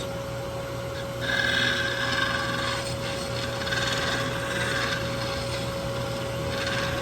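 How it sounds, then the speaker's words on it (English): Wax being rubbed hard against a wooden surface, a steady scratchy friction noise with rasping strokes, continuous and moderately loud with no talking. "the friction of the wax against the wood causes the wax to melt"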